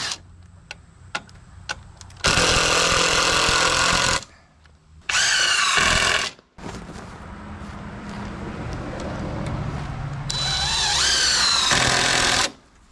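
A power drill bores through the steel plate that holds a winch on a lawn-mower tow truck, in three loud bursts of about two, one and two seconds, with quieter handling noise between them.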